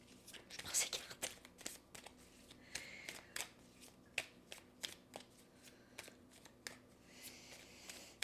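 Tarot cards being shuffled up close, a run of quick riffling flutters and snappy card taps, quiet and soft, with a faint voice in the background.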